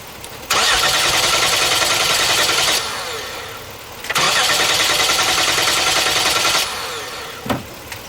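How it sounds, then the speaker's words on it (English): A Hyundai Genesis with a crank-no-start fault cranks in two long bursts of whirring starter noise without catching, separated by a brief pause, followed by a faint click. "let's go inside the car and crank it"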